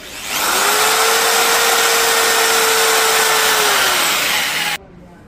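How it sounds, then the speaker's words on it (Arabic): An electric drill powered by an iPower portable battery spins up and runs at a loud, steady whine for about four seconds, then cuts off abruptly. "وهذا الآن تجربة سريعة لها على الدريل."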